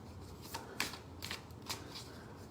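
Tarot cards are shuffled close by in a quiet room, a few soft riffling bursts and slides spaced irregularly over a faint background, fairly quiet overall.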